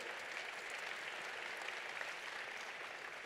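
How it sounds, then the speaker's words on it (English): Steady applause fills a school gala hall, a dense, even wash of clapping from a sizable audience that holds at the same level without pause. "let's give a round of applause"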